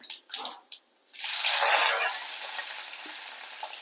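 Dried red chillies and curry leaves dropped into hot oil for an onion curry, a few short clattering sounds giving way to a loud, sustained sizzling crackle that slowly eases, close and alone.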